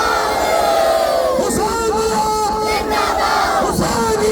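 A large gathering at a Muharram majlis in Gopalpur, Siwan, Bihar, answers a slogan in unison, loud massed voices shouting together with rising and falling calls over a crowd roar.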